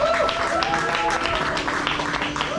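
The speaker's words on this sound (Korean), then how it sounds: "우리 힘찬 박수 모시겠습니다." Seminar audience in Gwangju giving a round of applause to a company speaker being introduced on stage, steady dense clapping throughout with some mixed crowd noise and voices.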